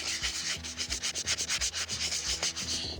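Rhythmic hand sanding of wood filler, a steady back-and-forth scratchy rubbing with about two strokes per second, close up and alone.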